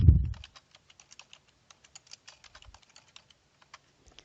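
Keys on a computer keyboard tapped in a quick, irregular patter of light clicks, close and fairly quiet, following a soft thump at the start.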